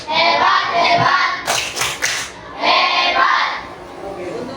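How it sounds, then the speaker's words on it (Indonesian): A primary-school class gives a rhythmic group clap, a short burst of many hands clapping in unison between stretches of chanting voices. "Kita kasih tepuk hebat dulu."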